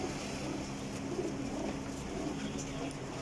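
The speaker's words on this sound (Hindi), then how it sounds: "देसी कबूतरियां ने, देसी कबूतरियां" Desi pigeons coo softly under a steady hiss of background noise, their low murmuring calls faint and continuous.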